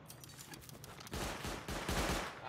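Automatic gunfire from an auto turret in the survival game Rust, loud bursts of rapid shots that swell in the second half over a busy background of game noise.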